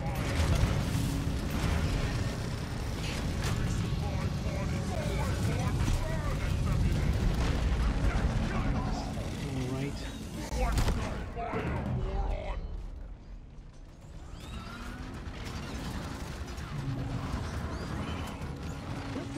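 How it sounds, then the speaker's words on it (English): An explosion in the video game Deep Rock Galactic, a heavy rumbling boom and crash amid dense game noise and mechanical clatter, followed by a brief lull as the action resumes, with in-game voices heard along the way. "There was an explosion"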